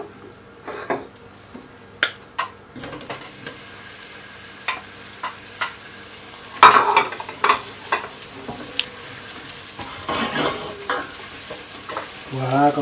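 Chopped onion with leeks frying and sizzling in a pan for vichyssoise, a steady hiss broken by repeated scraping stirs and clacks of a utensil against the pan.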